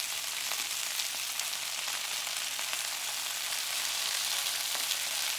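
Sticky soy chicken drumettes fry in a pan with a steady, dense sizzle and crackle, an even hiss that holds without pause throughout, no voices present.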